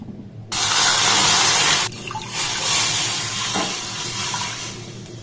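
Liquid milk pours steadily into a pan for about a second and a half, a full cup of thickened, pre-boiled milk for rasmalai, followed by softer splashing and kitchen handling.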